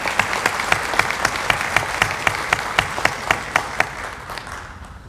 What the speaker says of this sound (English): let's give another round of applause for the Florence Area Swim Team.